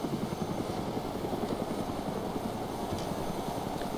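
Helicopter in the video game DayZ Epoch, a steady rotor chop with a dense low-pitched engine drone that holds at an even, close loudness throughout, with no talk over it.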